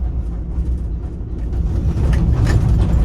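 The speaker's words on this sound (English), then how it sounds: "Besides a noisy, rattling truck." Noisy, rattling truck used for plumbing and drain cleaning work, a loud, continuous rumbling engine and rattle heard close by with no talk.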